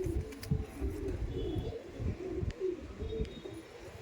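Madrasi Patta pigeons coo in low, throaty, repeated bursts close by, with a few faint chirps mixed in and no talking.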